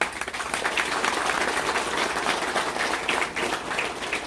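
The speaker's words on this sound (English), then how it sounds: "Give a big round of applause to the people of Champua." An audience at the founding event of Kendriya Vidyalaya Champua, a school in Odisha, breaks into steady, dense applause. The clapping is close and sustained throughout, with no talk over it.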